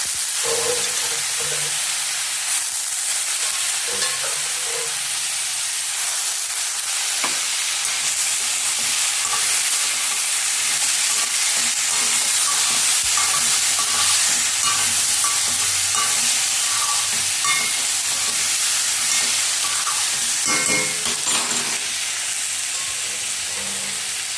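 Spices roasting in a pan for a broad bean and potato curry, a constant loud sizzle and hiss with soft scraping stirs repeating throughout, heard close up with no talk.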